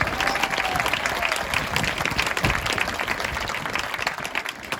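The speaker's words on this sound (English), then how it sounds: "Give them a round of applause." A high school graduation crowd applauds its 2024 class officers with a steady round of clapping that holds strong for about five seconds, full and close, with a faint voice underneath.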